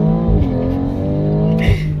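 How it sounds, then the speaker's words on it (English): A BMW X3 M40i engine holds at a steady high rev under launch control, then roars louder as it launches and accelerates hard, with a brief tire chirp near the end. "You can see launch control active, it's building boost, and then you let go of the brake."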